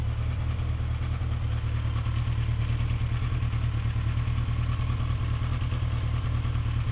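A Yamaha FJ1200 ABS motorcycle engine idles steadily nearby at about 1,000 rpm, a low even throbbing rumble with a faint mechanical clatter, unchanging throughout and with no speech.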